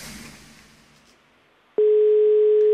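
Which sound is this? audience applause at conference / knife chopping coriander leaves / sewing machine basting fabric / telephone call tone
telephone call tone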